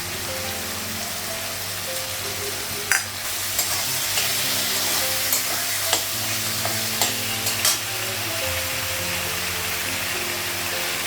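Green chilies fry in a hot pan for a Bengali home-cooked vegetable dish, giving a steady, close sizzle with a few sharp spatula clicks against the pan scattered throughout.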